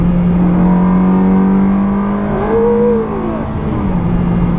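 Ferrari 360 with removable hard top: a steady, loud engine drone swells into a brief rev near the middle, then settles back, with no talk over it.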